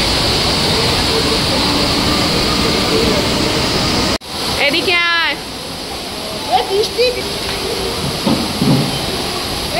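Heavy rain pours steadily outside a cinema on a city street as a loud, broadband hiss. The hiss cuts out abruptly midway, then returns with a voice speaking briefly and other scattered sounds over the downpour.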